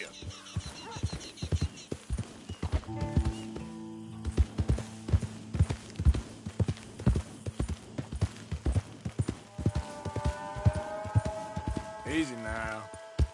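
Horse hooves clip-clop in a steady, close rhythm in Red Dead Redemption 2, strong regular beats throughout, with a short whinny-like call near the end and a voice speaking over part of it.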